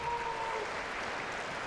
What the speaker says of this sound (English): McEnroe continued to receive loud applause as he won the game.